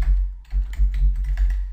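Typing on a computer keyboard while building a Microsoft Access database, with a steady patter of close keystrokes over a constant low hum.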